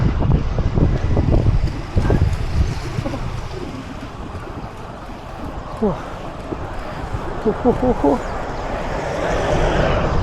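Strong gusty wind buffets the microphone outdoors, with a rushing roar throughout and a person talking under it.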